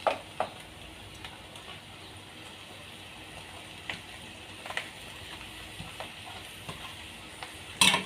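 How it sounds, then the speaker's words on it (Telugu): Boiled cluster beans tossed into fried onion in a pan give a soft continuous sizzle, with scattered scraping stirs and a louder clatter of utensil against the pan at the start and end. "ఇప్పుడు మనం ఈ ఉడకబెట్టిన గోకరకాయలు వేసేద్దాం"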